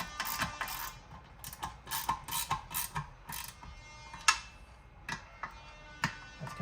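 Ratchet turning small cam cover bolts on a Nissan Stagea 260RS Autech engine, a close, irregular series of sharp mechanical clicks in short bursts with pauses between, no talking.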